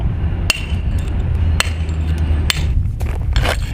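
A hammer strikes a flat mouth chisel to chip brick, giving several sharp metallic hits spaced about a second apart and then a quicker cluster of lighter taps over steady background noise.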